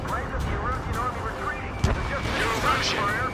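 Units trading gunfire in the Ace Combat 7 video game, rapid bursts and booms of combat mixed with rumbling engines and distant blasts, with a sharp louder shot standing out midway.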